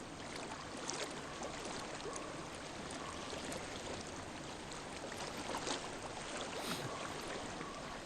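Flowing stream water in the game Hellblade: Senua's Sacrifice, a continuous close rushing and babbling wash that holds steady and fills the scene without any talk.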